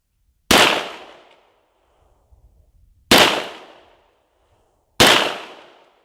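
Three loud firearm shots fired outdoors over snow, each a sharp close crack with a brief decaying tail, spaced a few seconds apart, with faint rustling in between.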